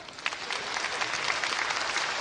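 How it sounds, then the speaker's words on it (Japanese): Audience applause at a televised comedy stage show, a steady dense wash of clapping lasting the whole short stretch at even loudness, without any voices rising above it. "はいよしはい拍手"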